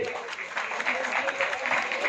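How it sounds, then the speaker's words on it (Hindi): Steady, dense audience applause fills a grand launch ceremony for a Bhojpuri OTT platform. Many hands clap continuously at moderate loudness with faint crowd murmur. "मनोज तिवारी जी के लिए एक जोरदार ताली।"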